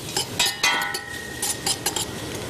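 Onions sautéing in a pan are stirred with a utensil, giving intermittent clinks and scrapes against the metal over a faint sizzle, close and moderately loud.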